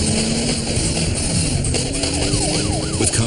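Police sirens wail continuously during a chase, with several cars in pursuit and wavering tones rising and falling over dense, loud traffic and engine noise.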